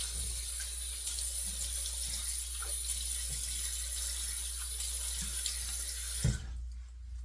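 Hot water runs steadily from a tap into a sink while a face is wetted before a wet shave, a constant close hiss that cuts off abruptly near the end.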